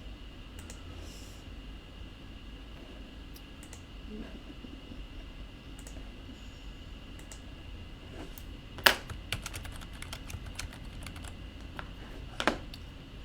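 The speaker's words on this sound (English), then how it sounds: "So I might actually type this." Light bursts of typing on a computer keyboard, a few quick clustered keystrokes standing out over a steady fan-like hiss in an otherwise quiet room.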